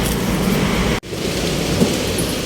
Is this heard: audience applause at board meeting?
no